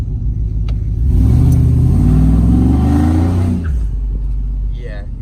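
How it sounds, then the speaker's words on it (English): A 2005 GMC Sierra pickup truck accelerates briefly, its engine note rising and revving up loudly and close before settling back down to a lower idle. "Just did a small acceleration. That was maybe up to 20 miles an hour."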